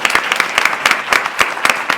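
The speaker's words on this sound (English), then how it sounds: "can we have a round of applause?" A legal-seminar audience applauds for Jordan, who just passed the bar exam: a short burst of brisk, continuous clapping from a roomful of people, close and fairly loud.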